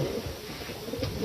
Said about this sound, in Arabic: هذا حمام مسافات طويلة، مروح من 500 كيلو من سلالة الجن أردن.